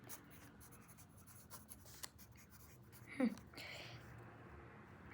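Homework answers for a Turkish-language assignment written by hand, a quiet scratch of pen strokes on paper with a slightly louder stroke near the middle, close and faint, while a voice speaks softly in the background.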